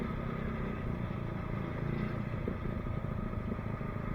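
Steady low motorcycle engine drone while riding, continuous and fairly close, with no talking over it.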